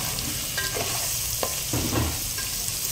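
A spoonful of garam masala sautés in hot tempering oil, a steady close sizzle with soft scraping stir strokes coming in short bursts throughout.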